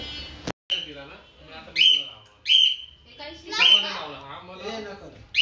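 A parrot gives several loud, harsh squawks in a row, close by, with a brief click at the start and quiet gaps between calls.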